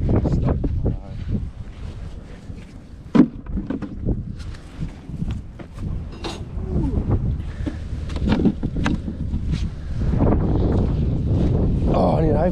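Gusty wind buffets the microphone with a steady low rumble outdoors in the cold beside beehives being split, while people talk intermittently nearby.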